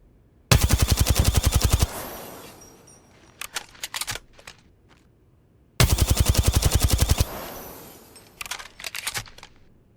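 Automatic weapon fire in a video game shooter with recoil assistance: two long, rapid bursts of loud, close shots, each followed by shorter scattered volleys and brief pauses.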